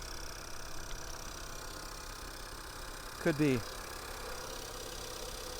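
A car engine idles steadily with a thin, whiny hum throughout, while someone briefly speaks over it.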